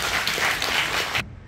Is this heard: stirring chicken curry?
no